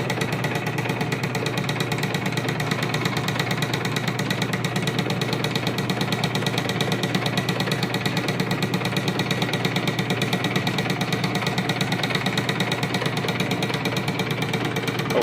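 A small Clipper Office Tester seed cleaner runs steadily while cleaning lavender seed, giving a continuous mechanical hum and rattle with a fast, even vibration that holds unchanged throughout, close and fairly loud with no talking.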